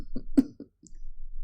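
A man coughs a few times behind a hand over his mouth, short muffled bursts close by, with no talk.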